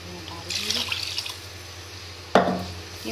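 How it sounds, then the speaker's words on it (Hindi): Leftover garlic water is poured into a pot of cooking mutton with bottle gourd, making a short trickling pour followed later by a sharper splash, with someone talking over it. "अब मैं इसमें ये अपना लहसुन का जो बाकी पानी वो ऐड करूँगी"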